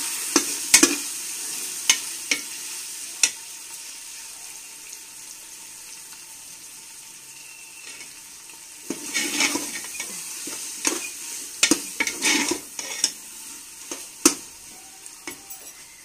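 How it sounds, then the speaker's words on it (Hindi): Minced meat keema fries in ghee with green chillies, a steady close sizzle broken by sharp clinks and scrapes of a spoon stirring the pan, busier in the second half. "ये देखें कीमा भुन रहा है और कीमे ने अब घी भी छोड़ दिया है"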